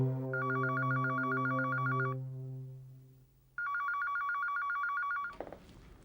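A telephone rings in two bursts of electronic trilling tones, steady and fairly loud, with a gap of near silence between them and a faint clatter as it ends.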